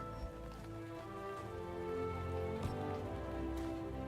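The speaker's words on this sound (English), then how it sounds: "Where are you off to in such a hurry in the rain?" Steady rain falls in a Throne and Liberty game scene, a continuous soft hiss and patter layered over ambient music, with no voices.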